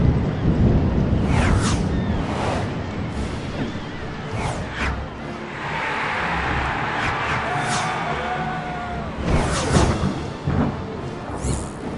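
Stormy, foul weather in the Harry Potter and the Prisoner of Azkaban PC game: thunder rumbles under steady wind and rain, with several loud cracks and a long rolling stretch midway.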